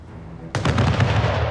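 Naval cannon fire from a warship in the PC strategy game Anno 1800: a sudden loud booming volley that erupts partway in and keeps rumbling with rapid repeated blasts, close and dominant.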